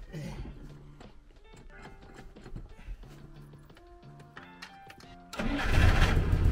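Old Soviet car engine cranking and catching in a Ukrainian village, a starter whir that breaks into a loud, rough running engine near the end, with a few mechanical knocks and clatters before it.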